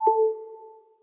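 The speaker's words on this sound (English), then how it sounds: "So Connect Power sounds like this." The iOS 11 Connect Power wireless charging sound, a single clean, clear chime with two tones that rings out and fades slowly into a drawn-out echo, alone with no talk.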